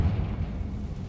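Confringo spell blast in Hogwarts Legacy, a short, deep rumbling boom that fills the moment with heavy low-end energy and fades slightly, no voices over it.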